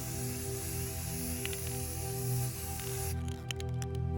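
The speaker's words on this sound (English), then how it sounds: "I'm just covering the canvas in a light mist, holding the can probably between 1 and 2 feet away from the canvas." A spray paint can hisses a light mist onto a canvas from a foot or two away outdoors, a steady close spray that cuts off sharply, followed by a few soft clicks.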